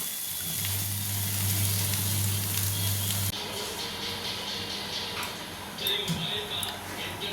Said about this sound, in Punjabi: ਹੁਣ ਆਪਾਂ ਤਲਨੀ ਆ ਦੇਖੋ ਤਲਣ ਵਾਸਤੇ ਛੱਡ ਦਿੰਦੇ ਆ ਤੇਲ ਦੇ ਵਿੱਚ